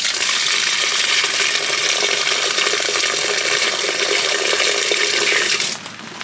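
Water gushes steadily and loudly from the tap of a rainwater harvesting system built from twelve linked food-grade barrels, a continuous dense rush that cuts off near the end.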